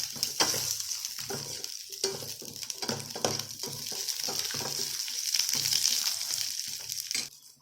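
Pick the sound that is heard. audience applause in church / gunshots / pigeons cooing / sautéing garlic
sautéing garlic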